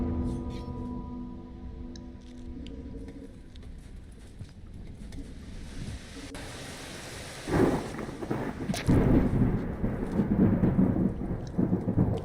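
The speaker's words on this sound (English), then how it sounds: "As thunder tends to be." Thunder rolling through a rainy storm in the game Rain World, a steady rumble that swells into loud, close cracks and booms over continuous rain, with faint tonal game music fading early on.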